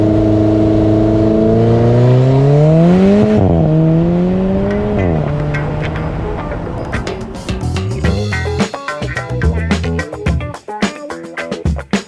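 Volkswagen Golf R pulls away hard with brief wheelspin, the engine revving up through a couple of shifts, loud and near, before fading into scattered clicks and knocks.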